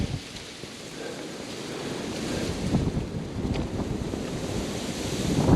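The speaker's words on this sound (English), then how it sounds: "wind's picking up" Wind gusts across an open winter hillside, a steady rushing roar that slowly builds and grows louder toward the end, buffeting close to the microphone with no voices.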